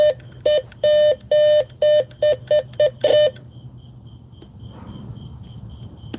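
A Bounty Hunter metal detector in tone mode sounds a strong hit as a loud electronic beep, pulsing in a quick run of about nine short and long tones that speed up before stopping, leaving faint hum and crickets behind.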